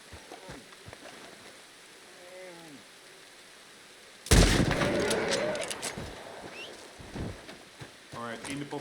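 A single loud, close gunshot from a rifle firing express bullets at a bear in Red Dead Redemption 2 bursts out midway, followed by a long ringing decay over quieter ambient rustling.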